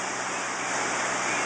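A brook flooded after Hurricane Irene in Brattleboro, Vermont roars as a dense, continuous rush of water, loud and close, with no voices over it.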